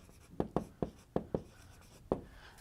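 Chalk or marker strikes a lecture-room board in six sharp, separate taps with short uneven pauses, close and fairly quiet with no talk over it.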